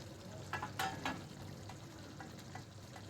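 Mutton liver fries in a pan with a soft steady sizzle, punctuated by a few brief scraping stirs, moderately quiet and alone.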